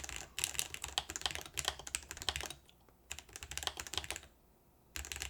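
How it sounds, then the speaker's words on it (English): Rapid, continuous typing on a tall mechanical keyboard with high keycaps and Hall effect switches, dense clacky keystrokes close up in bursts with two brief pauses. "Am I good on typing on this? Not really. This is sitting really high. These are also really high keycaps."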